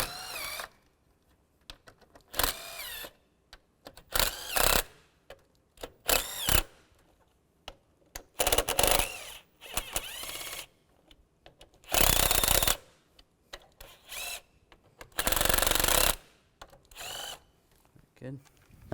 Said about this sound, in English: We're going to loosen all these screws up.